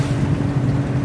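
Sailboat engine running steadily at 1,000 RPM to charge batteries while cruising slowly in the eastern Bahamas, a loud, continuous low rumble with wind and water noise and no talking.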